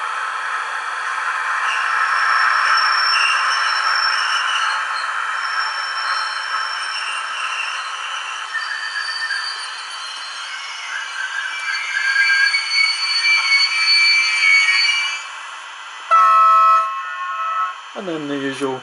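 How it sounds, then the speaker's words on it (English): Sound module of a Roco HO-scale DB Br186 DCC model locomotive plays an arriving freight train effect: a long rolling rumble with tonal squeal and buzzing, ending in a sharp horn-like blast and a descending whine. "there's one here that says it's an arriving freight train"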